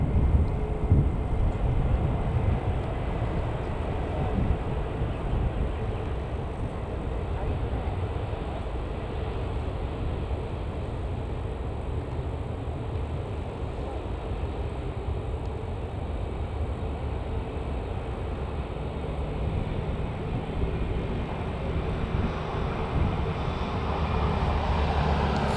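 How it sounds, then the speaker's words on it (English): A British Airways Airbus A319-100 arriving at Manchester Airport from London Heathrow, heard as a steady, broad jet roar that holds at an even level for the whole stretch, with no voices. "this one's a British Airways Airbus A319-100 arriving from London Heathrow"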